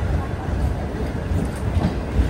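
A DMU passenger train rolls along the rails between Kurnool and Guntakal, a steady, loud rumble with a faint clickety-clack, heard close from on board throughout.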